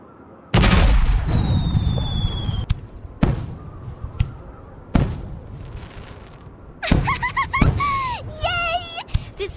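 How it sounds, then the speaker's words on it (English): A magic grenade in God Eater 2 goes off with a loud burst and a ringing tail. Several more sharp bangs follow, spaced a second or two apart, ending in a cluster of chirpy, sparkling pops. "This magic grenade test is a total success!"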